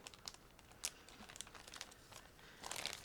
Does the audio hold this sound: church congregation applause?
no